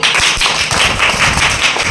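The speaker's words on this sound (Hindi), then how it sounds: "ताली हो जा भाई" Classroom of children clapping together during a storytelling lesson, a dense steady patter of many hands lasting the whole moment, loud and close with no talk.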